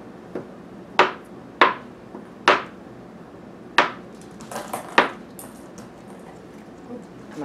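Knife blade striking a cutting surface while chopping a slab of candle wax for homemade jar candles, giving five or six sharp, distinct chops at an uneven pace, close and clear, with a few smaller taps between them.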